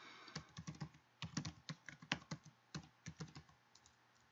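A password is typed on a computer keyboard: quick, uneven, close clicks of keys in short bursts, quiet and alone with no voices.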